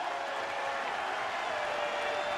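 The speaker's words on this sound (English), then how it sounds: "Commodores defense urging this crowd to make some noise" A stadium crowd at a college football game, Georgia Tech at Vanderbilt in 2009, producing a sustained, even roar of cheering and noise with a commentator talking over it.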